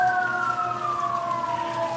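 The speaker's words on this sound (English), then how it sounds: "Sirens are always going off here." A single emergency siren wails close by, its tone sliding steadily downward over a faint traffic hum.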